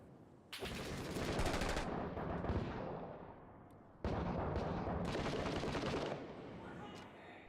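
Gunfire in a first-person shooter game comes in two loud, dense bursts of rapid shots, one from about half a second to two seconds with a fading tail, the other from four to six seconds, and speech appears faintly in between.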